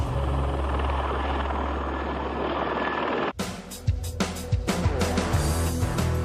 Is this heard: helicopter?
yes